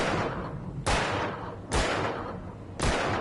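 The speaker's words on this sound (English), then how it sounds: "I'm gonna shoot one and see if that does anything." Gunshots fired at fireworks in the Alan Wake video game ring out three times at an even pace, each a sharp loud crack trailing into a rumbling echo.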